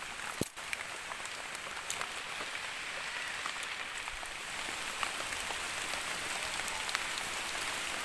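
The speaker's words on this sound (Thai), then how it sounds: "ฝนตกในป่าครับ" Rain falls in a forest during a mushroom-gathering outing, a continuous even hiss scattered with faint drop ticks, with no voices.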